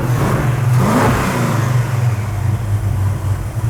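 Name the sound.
muscle car engine revving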